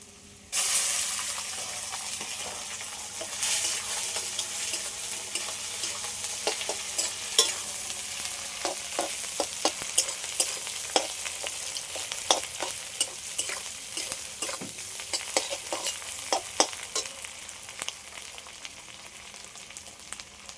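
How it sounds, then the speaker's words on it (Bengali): Fish roe frying in hot fish oil, a loud continuous sizzle with frequent crackles and spatters, stirred throughout, close and steady over about twenty seconds with no talk. "কিছুটা মাছের তেল নিয়েছি আর মাছের ডিম এর মধ্যে দিয়ে দেব"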